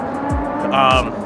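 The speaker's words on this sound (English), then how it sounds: "the sound of the Lamborghinis just ripping around the loops up the parking structure" Powerful Lamborghini engines rev and roar, echoing in a parking structure as the cars climb its ramps, with a sharp rising whine partway through and voices faintly underneath.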